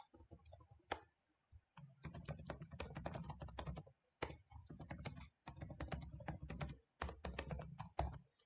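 Fingers type steadily on a computer keyboard while filling in email fields: fast, quiet clicking runs in several bursts separated by short pauses, close up and with no one speaking.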